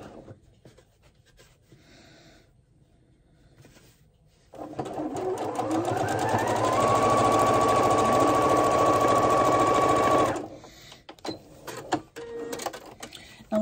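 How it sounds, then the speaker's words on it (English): A sewing machine stitching a seam on a contemporary chevron quilt runs in one loud, steady whirring burst of about six seconds, with quiet handling noises before and after. "Now let's see how we did with our seam."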